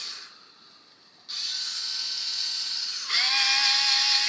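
A cordless electric screwdriver, from a Bosch Go 2 versus KS Tools comparison, runs with a steady, close mechanical whine that gets louder in two steps as it keeps spinning.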